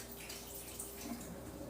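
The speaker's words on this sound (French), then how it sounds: "Je vais mettre de l'eau ici." Tap water runs into a pot while noodles are being prepared for a quick stir-fry, a steady, soft rushing flow heard close by with no voices over it.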